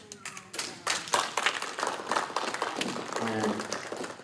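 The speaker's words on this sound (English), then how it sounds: "you can applaud, you're applauding yourselves" Clapping breaks out among attendees at a federation board meeting after a donation check is announced, scattered and uneven hand claps close by, with a person speaking briefly over them.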